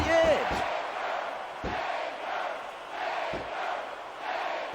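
Wrestling crowd in WWE SmackDown vs Raw 2006 keeps up a steady roar of cheering and shouting, with a few sharp thuds and a brief whistle-like tone at the start.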